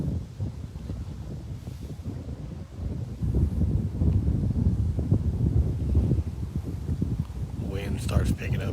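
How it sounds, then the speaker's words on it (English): Wind gusting across an open golf course, buffeting the microphone in low, uneven rumbles that strengthen partway through, with someone talking over it. "Wind starts picking up a little bit."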